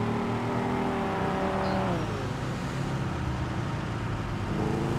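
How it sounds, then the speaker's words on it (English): A tractor without plates driving along a main road in GTA 5, its steady engine drone continuous and fairly loud, with a shifting tone partway through and no talk over it. "Bro, why is there a tractor on this main road?"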